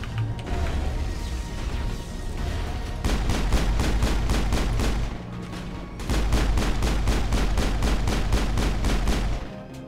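Enemy gunfire in the Mass Effect video game: rapid automatic bursts of loud, evenly spaced shots fire in two long volleys over a dense combat din, with a short gap between them.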